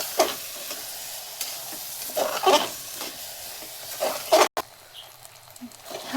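Rice is stirred and sautéed in a masala in a pan for pea rice, with a soft sizzle under scraping spoon strokes that come in irregular bursts.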